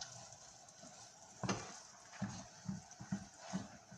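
Ground turkey and onion cooking in a pan, a soft steady sizzle under a series of spaced scraping stirs from a utensil, fairly quiet and close, with no voices.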